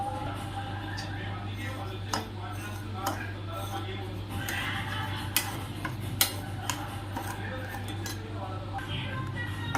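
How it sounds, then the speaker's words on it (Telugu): Bombay rava semolina fries in a pan over a medium flame, with a spoon clinking and scraping against the metal in irregular taps over a steady low hum while someone talks. "ఈ కప్పు రవ్వ ఇందులో వేసుకొని బాగా ఫ్రై చేసుకోవాలండి"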